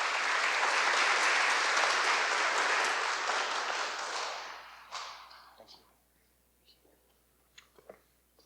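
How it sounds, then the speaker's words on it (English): Audience applause at a memorial ceremony for fallen heroes in Monterey County: a full, dense round of clapping that fades after about four seconds into a few scattered claps and faint room sounds. "Let's give her a round of applause as well as she walks up."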